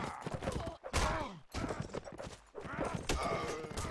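Horse hooves gallop at full speed in a multiplayer video game match, with rapid clip-clop beats mixed with gunfire and a commentator talking over the action throughout.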